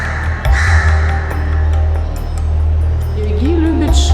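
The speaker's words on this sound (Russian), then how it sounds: "Как всегда, вороны на страже." Crows caw in a few short, harsh calls at a burial ground in Delhi, India, over a constant low background rumble.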